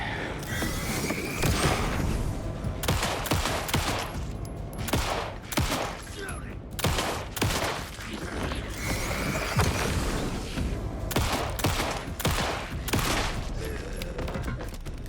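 Gunfire in the Alan Wake 2 DLC video game comes as repeated loud shots in quick bursts, with mechanical clicks and creaks between them and occasional talk underneath.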